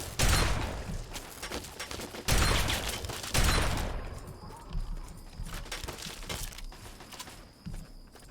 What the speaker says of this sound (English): it sounds like just a normal assault rifle